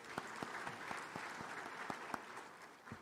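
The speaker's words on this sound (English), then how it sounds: "Please, one more time, a round of applause." A round of applause in the Accra International Conference Center during the Afreximbank annual meetings, a fairly distant, even wash of clapping with a few sharper individual claps standing out.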